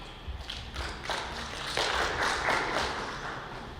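Audience applause at a company team fest, scattered claps that build into fuller, steady clapping from a crowd in a hall, with no one talking.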